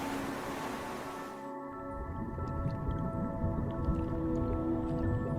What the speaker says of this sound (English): Whistles, each individual possesses a unique signature whistle,